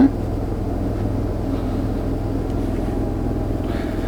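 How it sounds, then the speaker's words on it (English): A steady low mechanical drone hums throughout from the generator of a 2004 Fleetwood Bounder 35R motorhome running at constant speed, fairly quiet and even. "you can maybe hear our generator's actually running right now"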